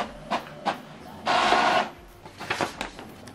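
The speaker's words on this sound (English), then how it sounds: "So now the test page is printing. It's printing the test page." An Epson printer runs a test page: a few short mechanical clicks, then a loud half-second burst of whirring print-head travel, followed by more scattered clicks and feed noises, close by with no voices.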